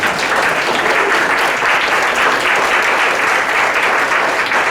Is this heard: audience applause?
yes